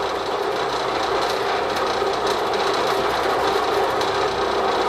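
An AC electric motor runs on single-phase power at about 1789 RPM, giving a steady, loud, continuous whirring hum with a faint rhythmic clatter throughout.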